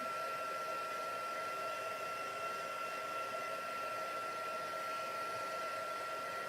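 A handheld heat tool or dryer drying a stamped card sentiment, front and back, blows at a steady, constant whir close by for the whole stretch, with no talk over it.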